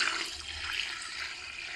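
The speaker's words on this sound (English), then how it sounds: "So now I'm just adding water to get it to the right" Water pours steadily into a fermenting bucket while fruit wine is being made at home, a continuous broadband rush close by that stays even throughout with no voices.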